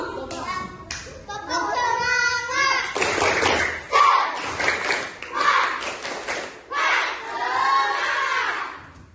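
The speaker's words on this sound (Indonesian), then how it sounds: "coba kita tepuk semangat dulu" Schoolchildren in an Indonesian classroom perform a rhythmic spirit clap, bursts of patterned clapping mixed with the children's chanting voices and shouts.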